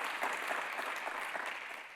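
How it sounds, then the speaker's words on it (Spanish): Steady audience applause during a business talk on digitalization and Industry 4.0 best practices, a dense, even wash of many hands clapping at once, heard from some distance and fairly soft. "Vamos a darles un aplauso."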